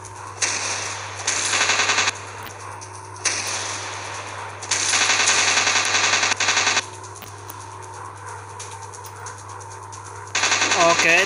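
Bursts of rapid machine gun fire from fighter planes in a WW2 dogfight video game rattle out in several loud, sustained volleys separated by short pauses, over a steady engine drone.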